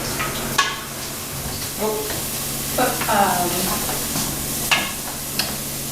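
Garlic sizzles and sweats in a hot pot for a roasted garlic soup, a steady close crackling hiss with occasional stirring scrapes and brief voices in the background.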